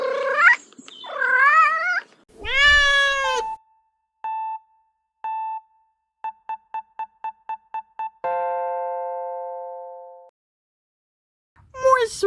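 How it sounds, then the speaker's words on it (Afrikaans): A cat lets out a few loud, drawn-out wavering meows close up, followed by a series of electronic beeps and a fading tone, as in a children's animal-sound guessing game. "dat is een kat"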